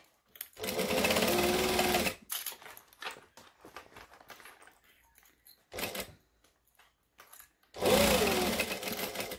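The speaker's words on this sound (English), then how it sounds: "I'm going to backstitch, and I'm going to make sure I'm on a joining stitch length, not a decorative one" A sewing machine backstitching a seam on a hexagon bag, running in three bursts: a long loud whir, a short burst and another loud whir, separated by quiet gaps with faint clicks and handling.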